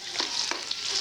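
Onion and garlic sauté in a pan for chicken chop suey, giving a brief, steady sizzle with a few soft stirring scrapes, close and alone.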